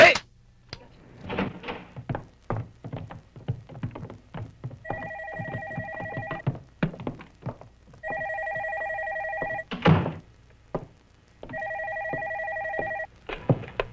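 A telephone in a homicide office rings in three bursts of trilling electronic rings, with footsteps, thumps and shuffling movement around them.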